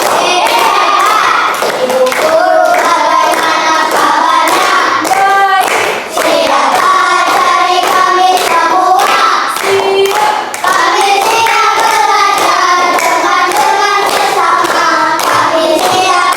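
Loud rhythmic hand clapping in repeated patterned bursts, a third-grade class doing spirit clapping, mixed with children's voices chanting along, continuing steadily throughout.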